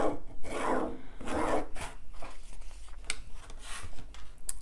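A marker drawing a line along fabric for a sewn bag makes two long scratchy strokes, then shorter, quieter scraping bursts, all close and alone in a quiet room.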